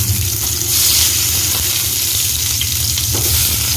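Eggplant frying in a pan sizzles loudly and steadily, with faint stirring and scraping, close by and without talk.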